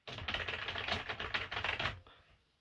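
Rapid clattering keystrokes on a computer keyboard, loud and close, a dense burst of typing for about two seconds before stopping abruptly.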